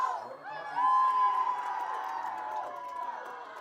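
A student section crowd cheers and whoops at a varsity football game against Roscommon, a sustained roar of mixed shouting voices that swells early and then holds steady.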